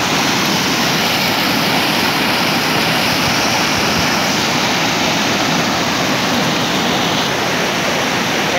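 Overflow water from a dam rushes forcefully in a loud, steady roar of broadband noise, constant and close with no speech.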